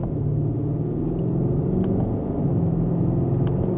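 A 2025 BMW Alpina XB7 in sport mode, second gear, gives a steady, deep low rumble from inside the cabin, its engine droning evenly at moderate volume with road noise underneath.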